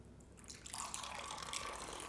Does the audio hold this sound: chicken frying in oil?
no